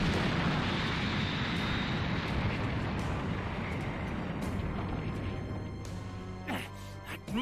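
Majin Buu blowing up a city in the Dragon Ball Z Kakarot video game: a loud, sustained explosive roar and rumble that slowly tapers off, with sharper effect hits near the end.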